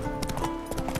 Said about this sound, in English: Oh, the horse like automatically rides on the road.